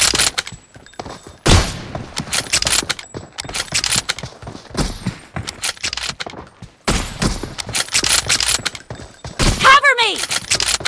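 Gunfire in the BGMI battle-royale mobile game, sharp broadband bursts and shot clusters recurring across the stretch, loud and close, with game effects and a whistling sweep near the end.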